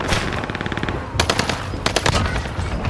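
Rapid automatic gunfire rattles in Call of Duty on Rebirth Island, close and loud bursts of shots split by brief pauses.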